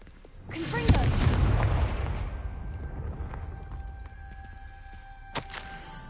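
Confringo spell explosion in the Hogwarts Legacy video game, a loud single boom with a crackling burst that slowly fades into a long rumbling tail, followed later by a faint chime tone and a small sharp click.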